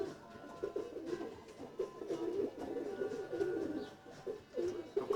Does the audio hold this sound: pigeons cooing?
yes